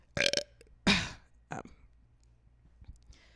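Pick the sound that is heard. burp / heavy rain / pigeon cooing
burp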